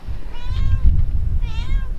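A cat up in a rose bush meows twice, close and fairly loud, with a short pause between the two drawn-out cries over low background rumble.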